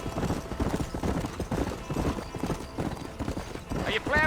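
Horse hooves clip-clop in a quick, steady rhythm while riding in Red Dead Redemption, close and continuous, with voices talking over them and a brief whinny at the end.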